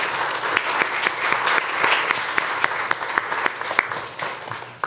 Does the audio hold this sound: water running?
no